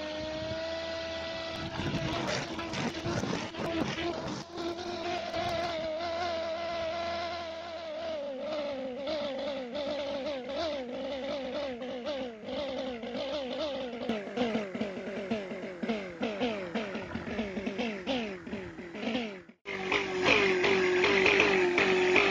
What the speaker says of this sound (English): after less than a minute of intensive operation, the motor speed becomes unstable